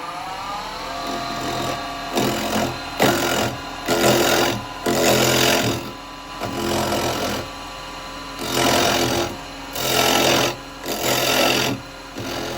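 A woodturning lathe shaping a small bowl from firewood with a square carbide chisel, heard as repeated close, rasping cutting bursts lasting about a second each against a steady motor hum, broken by short pauses between passes.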